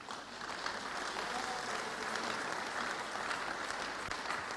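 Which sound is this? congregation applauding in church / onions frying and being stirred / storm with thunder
congregation applauding in church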